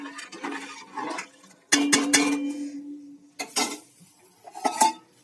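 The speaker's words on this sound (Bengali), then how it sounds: "লবণ দিয়ে আমি এটাকে একটু নেড়ে নিচ্ছি" Utensils clink and scrape against a metal pot as vegetables are stirred with salt while cooking khichuri and mixed vegetable curry, in short uneven bursts with quiet gaps between them.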